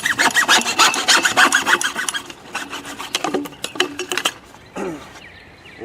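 A handsaw cutting through PVC drain pipe: fast, rhythmic rasping strokes, close and loud, that slow and grow uneven toward the end before a final scrape and clatter.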